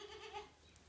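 A mother goat gives a faint, brief bleat, distant and quiet against soft background noise outdoors.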